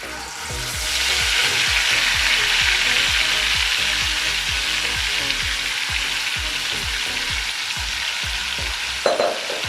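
Marinated chicken frying with onions in a pan for biryani, a loud steady sizzle running throughout with regular stirring scrapes in an even rhythm and a brief clatter near the end.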